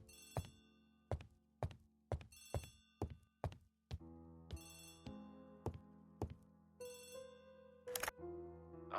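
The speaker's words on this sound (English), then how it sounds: "Poirot, the telephone." Repeated rings of an old-fashioned telephone bell in the Agatha Christie ABC Murders video game, a train of bright metallic bursts in an irregular rhythm, loud and close, with a low background tone and no talk.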